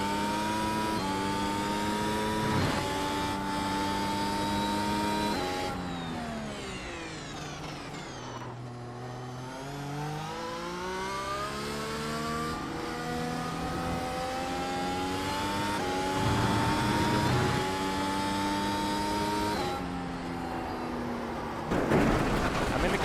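A NASCAR stock car at Indianapolis brakes and downshifts for a tight hairpin, then accelerates out: a loud, close, harmonic engine note falls and rises in pitch through several gear changes, sustained and alone without talk.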